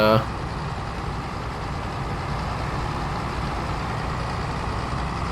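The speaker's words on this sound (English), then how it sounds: "It sounds like a truck going down the highway" A steady, low truck engine in Farming Simulator 22 drones continuously at an even pace, with broad rumbling noise and no sharp changes throughout.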